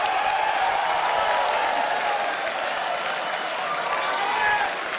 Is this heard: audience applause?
yes